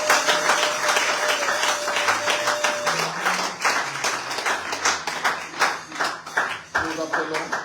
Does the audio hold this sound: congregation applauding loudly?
yes